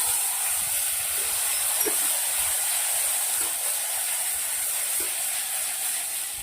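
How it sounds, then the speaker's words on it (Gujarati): Eggplant and potato pieces fry in hot oil with mustard seeds, cumin and asafoetida, giving a steady, even sizzling hiss that continues without a break and fades slightly toward the end. "તેલના અંદર પાંચ મિનિટ જેવા સંતરાવા દઈશું"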